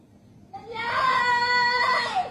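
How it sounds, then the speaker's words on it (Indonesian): A loud, sustained high-pitched scream starts abruptly and holds for about two seconds, sounding like it plays through a speaker. "Oke, ada suara teriakan."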